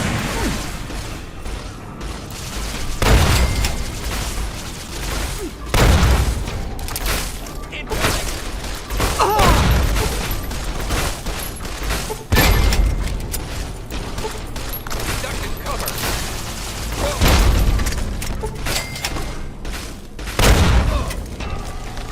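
Gunfire in the video game Fallout 3, with repeated loud booming shots and blasts at irregular intervals over a dense, mechanical battle din, mixed with voices.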